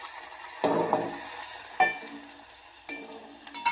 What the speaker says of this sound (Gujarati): તો સૌ પ્રથમ આપણે પહેલાં ડુંગળી એડ કરી દઈએ।